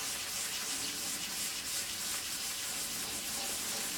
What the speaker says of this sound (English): that's basically acting as though a liquid sander.